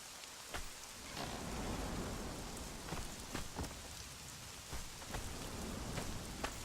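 Continuous video game rain from Conan Exiles hisses evenly, with occasional sharper drips and taps standing out from the steady downpour.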